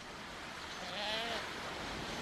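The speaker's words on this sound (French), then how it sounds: "2 chèvres qui sont quasiment installées dans ma cabane." A goat gives a single short, wavering bleat near a makeshift shelter on an island, set against a steady wash of wind and surf.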